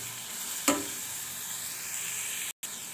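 Mushrooms and green chilies fry in a pan with a faint, even sizzle, broken by one sharp utensil click early on and a brief dropout near the end, with no one speaking.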